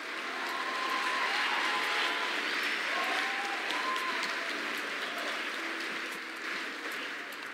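Audience applause at a film and TV awards ceremony, a dense patter of clapping that holds steady and then slowly thins out.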